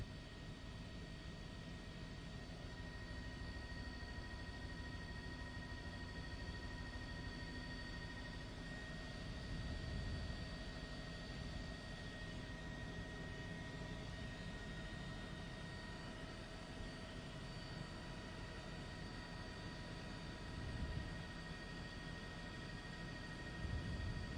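A distant news helicopter drones steadily overhead, a constant engine whine and rotor hum that stays even throughout.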